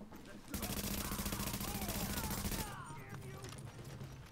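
A player's turret in The Division fires a rapid burst of evenly paced shots lasting about two seconds, loud and close, before the fire stops and quieter game sounds carry on.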